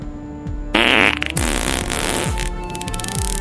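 A fart-like blast bursts out amid a comic French-language sketch scene, loud and buzzy with a short tail, set against rhythmic background music and clutter.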